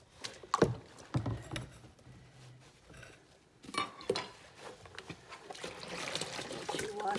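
A kitchen item is washed in sink water, with sloshing and splashing, a few clinks and knocks against the sink, and trickling water that builds toward the end, all close by.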